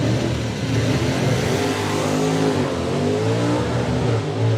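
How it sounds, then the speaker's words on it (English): A pickup truck at a drag strip launches hard and accelerates, engine note climbing loud and close as the driver drives through the clutch, revs rising through shifts on a four-speed floor shifter. "It sounds to me like he's driving through the clutch."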